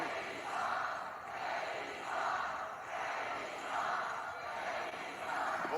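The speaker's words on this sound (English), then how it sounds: "Local crowd tonight in Omaha." Live arena crowd at a WWE Raw wrestling event in Omaha, a steady roar of cheering that swells and ebbs in waves across the whole stretch, with no one speaking.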